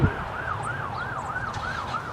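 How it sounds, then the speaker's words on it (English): A fire truck siren wails, rising and falling steadily, several slow cycles, over low road rumble; moderately distant and continuous. "Do you hear the siren? You hear a fire truck?"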